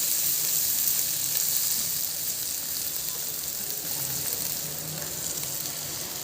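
Eggs are poured onto spices already fried in a pan, setting off a steady, broad hiss of sizzling fat that fades slightly over a few seconds. Close and continuous, with no talking.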